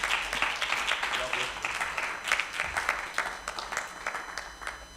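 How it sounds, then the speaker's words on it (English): Conference audience clapping in steady applause at a youth and pension conference, a dense continuous patter that holds for the whole stretch with a voice talking over it. "Give him a round of applause."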